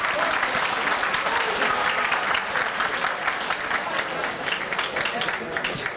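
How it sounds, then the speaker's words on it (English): A tournament crowd at the 1993 four-wall handball nationals bursts into applause. Dense, sustained clapping fills the hall evenly from start to finish. "so I think we need to give California a big round of applause"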